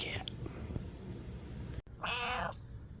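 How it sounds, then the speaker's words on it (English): House cat giving one clear, close meow near the end, after a brief faint chirp at the start, over a quiet room hum. "cat."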